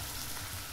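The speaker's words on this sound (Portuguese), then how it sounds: "Esse aqui eu vou deixar um pouco aí fritando na gordura." Sauerkraut frying in fat in a pan, a dense, steady sizzle and crackle throughout, close and even, with no talk.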